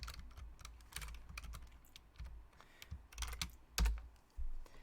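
Someone types on a computer keyboard in quick, irregular bursts of soft key clicks, close and fairly quiet, with a few heavier thumps and no talking.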